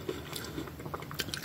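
Red Hots cinnamon candies bitten and chewed up close, with a few crisp crunchy snaps and softer squishy chewing over about a second and a half, with no talking.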